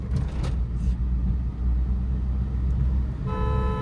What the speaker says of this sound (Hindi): सामने ब्लाइंड टर्न है, मैंने लॉन्ग हॉर्न दिया